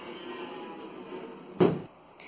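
A kitchen cupboard drawer covered in adhesive film slides and bumps shut with a single short knock, close by, over a faint steady background hum.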